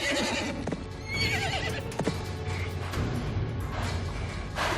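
A horse neighs and whinnies loudly and close by amid a busy scene, with hoof clatter, thuds and a sharp crack between the calls.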